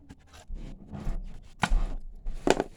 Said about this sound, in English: I am cutting the rope just a tad